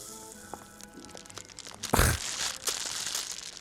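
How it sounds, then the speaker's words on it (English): Cheap Ripple Blanc wine fizzing and bubbling as it eats into a glass, a burst of crackling sizzle peaking midway over a low background murmur, then a softer hiss trailing on. "It's bubbling."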